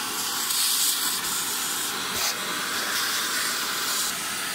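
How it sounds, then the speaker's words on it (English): A vacuum cleaner sucks rubbish out of the interior of a BA Falcon/Fairlane car, a steady, loud, hissing roar of airflow with small rattles of debris, running continuously with no talk. "now we're going to vacuum and clean all this rubbish in"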